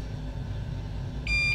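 A single high electronic microwave oven beep sounds near the end, over a steady low rumbling hum.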